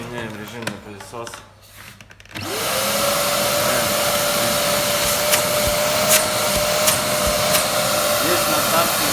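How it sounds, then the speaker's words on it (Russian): A Bosch vacuum cleaner switches into vacuum mode after a few seconds of clattering handling, then runs as a loud, steady whine with a constant tone for the rest of the clip. "Меняем режим на пылесос."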